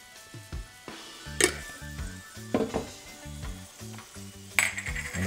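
Shrimp in their shells sizzling with curry paste in a hot pan, a steady crackling fry punctuated by scraping stirs and occasional clinks of utensil against pan, close and with no talking.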